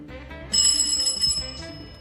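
A bright electronic bell tone rings out suddenly and holds for about a second before fading, like a doorbell chime.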